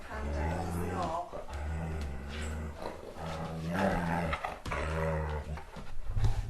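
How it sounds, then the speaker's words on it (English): A close husky makes repeated low, groaning growls in a steady rhythm of long rumbling phrases, almost roar-like, continuing throughout. "That's the noise he makes when he does it."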